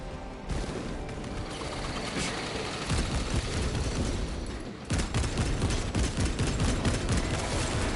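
Orbital guns pounding away in Space Marine II, a dense, loud, continuous barrage of rapid heavy fire and blasts that grows even heavier toward the end.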